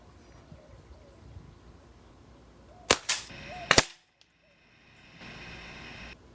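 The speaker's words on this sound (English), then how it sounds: "we're going to go ahead and give her a shot here." A Beeman 1330 Raider .177 caliber PCP air rifle fires, giving two sharp, loud cracks about a second apart followed by a brief rattle, then quiet outdoor ambience with faint background noise.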